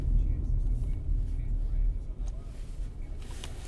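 A 2016 Hyundai Tucson with a longer, wider wheelbase drives through city streets, its steady low engine and road rumble continuous and close throughout, with a brief clatter near the end.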